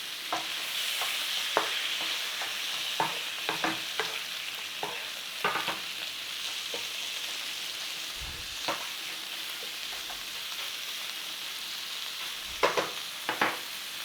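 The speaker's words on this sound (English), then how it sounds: "we're actually trying to put a bit of a sear and a bit of browning all around that pork" Pork pieces for adobo, seasoned with salt and black pepper, sear and brown in a hot pan with a soft steady sizzle. Scattered clicks and scrapes of stirring and moving the meat sound close but quiet throughout.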